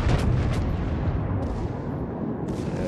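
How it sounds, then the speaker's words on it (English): Heavy naval gunfire from the Grosser Kurfürst battleship in World of Warships: a loud, rumbling barrage of deep booms with sharper cracks near the start and again toward the end. "Nice high shots up into the upper armor of the Bismarck."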